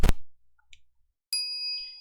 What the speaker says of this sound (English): After 120 seconds, the microwave chimes.